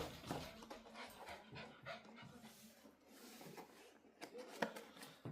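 A small, freshly groomed dog pants close by in quick, rhythmic breathy bursts, faint and fairly quiet overall, with a couple of louder breaths near the end.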